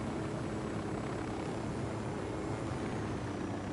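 A continuous helicopter engine drone in the video game Ghost Recon Wildlands, a helicopter with a mounted machine gun hovering nearby, steady and fairly loud, with no talking over it.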